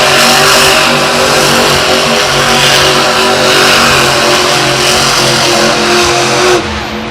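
A King Crunch monster truck's engine roars loudly and steadily as it spins through a donut at a Monster Jam arena show in Tampa, revving continuously before cutting off abruptly near the end.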